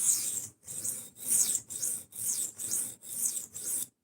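A blade is ground on an Atoma 140 grit diamond plate in eight rhythmic back-and-forth strokes, a close, harsh scraping rasp with brief pauses between passes.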